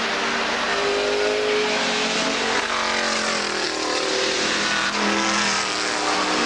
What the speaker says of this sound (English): Third going through there is John Kent in the TVR